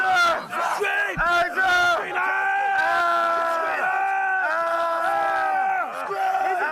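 A group of Marine Corps recruits at basic training screams and yells together in long, strained bursts, loud and close, rising and breaking off repeatedly.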